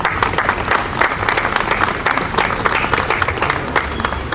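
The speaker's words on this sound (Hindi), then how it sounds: "तालियां बजती रहे प्लीज।" An audience at a gathering with knee replacement patients applauds steadily, dense clapping from a crowd filling the room with no break, close and fairly loud.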